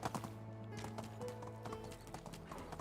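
Horse hooves clip-clopping at a steady trot in the medieval village game Medieval Dynasty, a rhythmic close patter with a faint whinny and no talk over it.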